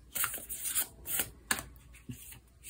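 Oracle cards being shuffled close up in quick papery bursts, a rhythmic riffling and rubbing with brief pauses between.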